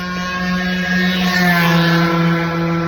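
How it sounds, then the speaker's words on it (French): A motorcycle engine drones loud and close throughout, its steady harmonic tone rising slightly as it passes on a sunny roadside walk. "Voilà, il y a une moto."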